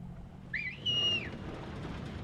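A single bright rising-and-falling whistle over quiet background hum, used to herd stegosaurs in Jurassic World Evolution 3; brief, clear and fairly close, with one short trill before a longer held note.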